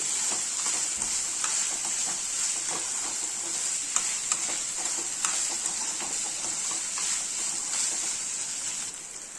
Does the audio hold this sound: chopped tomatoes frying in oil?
yes